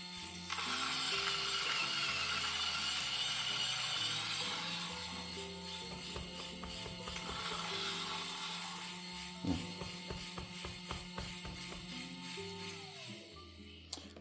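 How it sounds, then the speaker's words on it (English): A Varia VS3 single-dose coffee grinder runs at grind setting 0.5, with a steady mechanical whir and a rapid crunching rattle as the beans pass through. The sound is close and alone, with no talk. "So I'll turn on the grinder"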